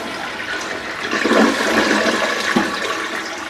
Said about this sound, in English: every time we flush the toilet, we're gonna have more water in our bowl.